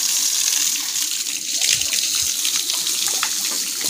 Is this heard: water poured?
yes